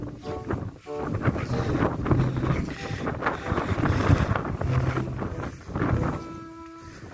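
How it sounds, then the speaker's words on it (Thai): Strong wind buffets the microphone outdoors near a giant Buddha statue at a temple, a loud continuous rumbling roar that swells and dips throughout. "ขออภัยนะครับลมแรงไปหน่อยครับ"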